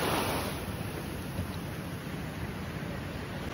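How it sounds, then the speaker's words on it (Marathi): Sea waves washing back down Malvan beach, a broad steady roar of surf with wind, loudest at the start and then settling into an even rush. "आता पाणी जाईल परत"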